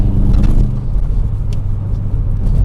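Subaru 22B engine pulls hard in fifth gear, a deep, steady rumbling drone heard from inside the car, loud and continuous with slight swells in tone.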